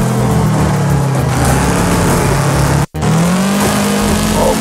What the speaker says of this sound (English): A front-wheel drive car that sounds like a weed eater.